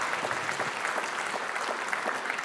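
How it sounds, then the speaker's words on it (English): A graduation ceremony crowd applauding counselling therapist diploma graduates, a steady, even roar of many hands clapping at moderate volume that carries on without a break. "A round of applause, please, for the counseling therapist diploma graduates"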